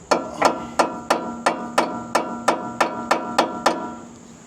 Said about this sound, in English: just take a hammer right there on that bolt